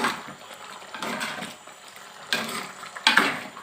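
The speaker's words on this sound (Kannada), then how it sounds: "ಮಧ್ಯೆ ಮಧ್ಯೆ ಈ ಥರ ಮಿಕ್ಸ್ ಮಾಡ್ತಾ ಇದ್ರೆ ಒಳ್ಳೆಯದು" Chicken curry gets stirred in a clay pot with a few scraping, sloshing strokes at a steady pace, close and clear over a soft sizzle.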